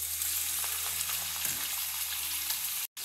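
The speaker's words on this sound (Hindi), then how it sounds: "अभी मैं मटन को अच्छे से फ्राई करूँगी" Half a kilo of mutton fries in a quarter cup of oil in a pan, a dense, steady, close sizzle that runs unbroken until a brief dropout near the end.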